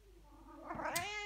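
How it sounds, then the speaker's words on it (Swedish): A house cat lets out a single drawn-out meow that rises and wavers, fairly quiet and somewhat distant in an indoor room, heard alone without talk. "Min katt som ni hör i bakgrunden också."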